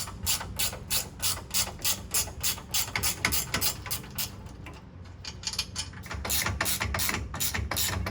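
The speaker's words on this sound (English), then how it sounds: "you got two 15mm bolts that hold this entire brake caliper on, and those two bolts are going to have to come out real quick" A ratchet backs out the 15mm bolts holding a brake caliper on a RZR side-by-side, rapid close clicking in steady bursts with a short pause midway, alone with no talk.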